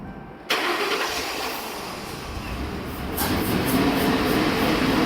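A car's engine cranks and catches after a throttle body and air intake cleaning, settling into a loud, steady idle that builds slightly as it runs.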